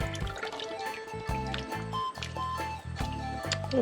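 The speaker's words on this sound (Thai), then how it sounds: "เอาหน่อไม้ลงมาเนี่ยพี่น้องนยห น่อไม้นะครับ ที่เราเตรียมไว้เนี่ยครับต้มเรียบร้อยนะครับหน่อไม้นี่ ลงไปเลยนะครับ" Boiled bamboo shoots tipped into a pot of Isan-style bamboo shoot curry give wet, squelchy drips and splashes of liquid in quick bursts, close and fairly loud, with no talking.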